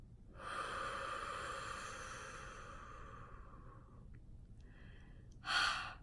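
A long, deep breath is exhaled after being held, a steady breathy rush that slowly fades, then a short sharp snort-like puff at the end, close and alone.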